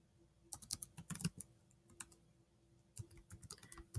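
Keys clatter on a computer keyboard in quick, quiet bursts of typing, with a short pause between two runs of keystrokes, close and faint with no voice.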